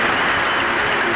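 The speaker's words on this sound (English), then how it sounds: "Round of applause." A stadium crowd at St Mary's claps and cheers to honour a 1,000-mile charity run, with steady, dense applause throughout.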